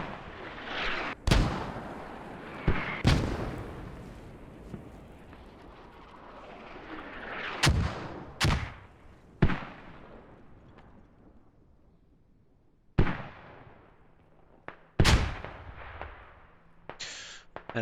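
Mortar rounds fired in a military shooter game, a series of sharp booming blasts spaced irregularly, some loud and close and others softer, each trailing off into low rumbling echo.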